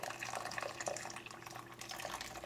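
Broccoli cooking water, still hot from boiling, is poured into a pot for cooking ramen noodles, giving a steady splashing, gurgling flow that runs throughout at moderate level with no talking.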